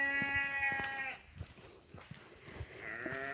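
Several sheep and lambs bleat at close to middle distance, overlapping calls rising and falling over a rustling outdoor background.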